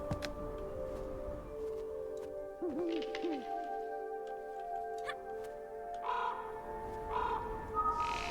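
A synthetic bird call, a few hooting, warbling notes, sounds over a steady droning game ambience with faint ticks, no talking.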